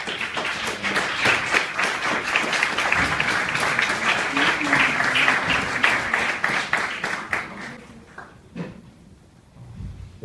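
Applause from a panel-discussion audience for the regional prosecutor of Veracruz: dense rapid clapping for about eight seconds, fairly loud and sustained, then thinning to a few scattered claps before dying out.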